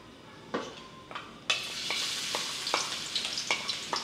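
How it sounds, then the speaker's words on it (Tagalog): Garlic sautéing in hot oil in a wok-style kawali, a steady close sizzle that swells louder partway through, punctuated by scattered sharp clicks and spatters of a utensil stirring, with no talking. "magsisimula tayo sa pagigisa. Gamit ko kawali. As usual, magpapainit tayo ng mantika. Bawang"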